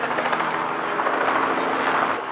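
Dense, steady whirring rotor and engine roar of a helicopter at an off-road racing event, loud and continuous throughout.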